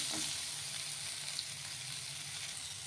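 Green chillies, tomatoes and garlic sizzle gently in a pan, a faint, steady hiss with a brief stir near the start.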